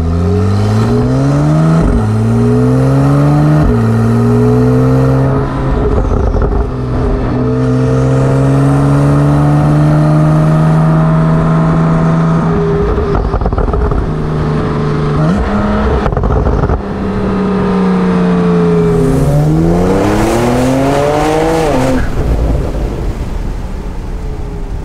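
A stage 2 Porsche 911 Turbo fitted with an Akrapovic exhaust revs hard and close, its engine note climbing and falling in repeated sweeps with sharp crackles between pulls, loud and alone for about twenty-five seconds.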